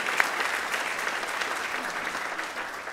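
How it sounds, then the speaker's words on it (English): An audience at a Pacific Council evening event gives a steady, full round of applause, dense clapping that holds at an even level throughout with no talking over it. "Let's give them another round of applause."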